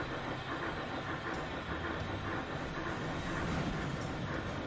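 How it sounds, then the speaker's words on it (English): Trains arriving at a busy station in the transport simulation game Transport Fever 2, a steady rumbling rail noise with faint clattering that holds at an even level throughout, with no talking. "Oh, more trains coming in."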